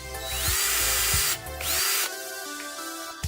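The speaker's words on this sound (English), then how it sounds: "then I'm going to make the holes a little bit bigger so they will actually fit the screws in" A small power drill enlarges screw holes punched in cardboard, whirring loudly in two bursts with a brief pause and a short spin-down between them, close up.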